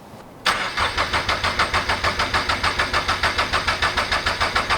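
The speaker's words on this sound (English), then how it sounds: "Give you guys a nice sound clip. Even though you're not gonna be able to see it, you'll hear it." A turbocharged Toyota GR86 with newly installed bigger injectors cranks briefly, catches and starts, then runs at a steady idle with a rhythmic pulsing chug, close and fairly loud.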